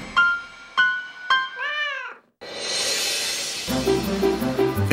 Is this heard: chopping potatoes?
no